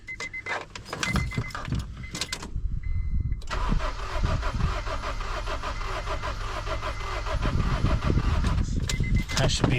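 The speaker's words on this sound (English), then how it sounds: "now we can actually crank this over and see if we got any compression" Truck engine cranking over on the starter during a compression test, a steady rhythmic churning that runs for several seconds, close and fairly loud, with a person talking around it.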